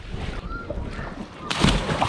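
A person backflipping into Mercer Lake from a boat, a sharp loud splash landing near the end of a short moment of quiet water lapping and faint background voices.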